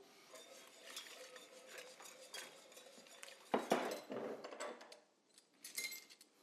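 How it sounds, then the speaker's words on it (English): Beef broth being whisked into an oil and flour roux, with brisk metallic scraping and clinking of a utensil in a pan, louder in the middle and trailing off, with short pauses. "Now I'm going to take this 2 cups of beef broth, mix it into this oil and flour, aka roux"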